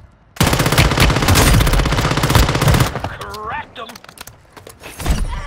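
Gunfire in Warzone Mobile opens with a loud, sustained automatic burst lasting a few seconds, then gives way to scattered shots and a brief spoken remark.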